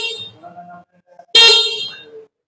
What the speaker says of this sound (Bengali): এবং হর্ন।